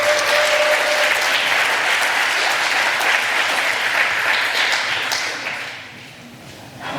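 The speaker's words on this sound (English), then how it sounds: "Applause." Steady, full audience applause welcoming speakers at a security conference talk, sustained for about five seconds before tapering off near the end.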